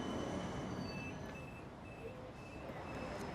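A Budapest tram runs along city rails, its steady rolling rumble carrying faint high metallic wheel squeals and tones throughout, with no talk.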